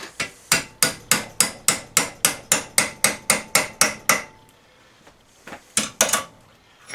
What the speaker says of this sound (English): Let's go up a size in the chisel again.